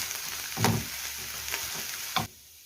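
Kofta filling for savory stuffed pastries frying in a pan, with a steady soft sizzle and a few louder scraping stirs before it cuts off near the end.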